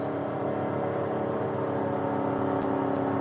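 A race car's engine drones steadily from inside the cockpit while lapping a banked oval track at a Richard Petty Driving Experience, a constant close roar without pauses or voices.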